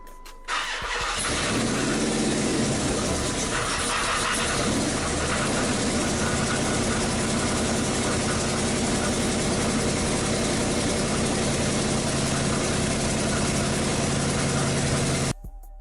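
A car engine starts up at night in a garage, cranks briefly, then settles into a loud, steady idle with a continuous rumble that runs to the end.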